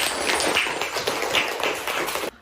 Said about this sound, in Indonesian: Tepuk tangan untuk Monifa.